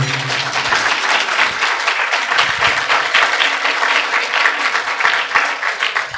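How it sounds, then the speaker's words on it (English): Audience applause at a wedding ceremony event, dense and sustained clapping from a crowd, loud and close for the whole stretch with no talk over it. "So a big round of applause again for"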